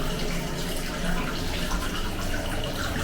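Hot spring water pours continuously into a hotel-room bath at an onsen in Sakunami, Miyagi, a steady close splashing rush with no talk over it.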